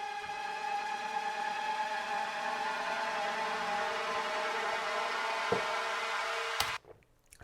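Layered synth tones rub against one another in a dense, tense drone that rises slowly in pitch and holds steadily for about seven seconds, then cuts off sharply at the end. No voices are heard.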